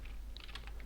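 HTML code being typed on a computer keyboard, with a brief cluster of soft keystroke clicks over a low background hum, faint and close.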